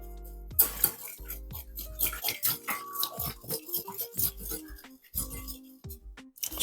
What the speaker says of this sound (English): Grab yourself a whisk.